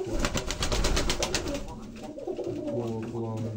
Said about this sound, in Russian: Такого плана голубь.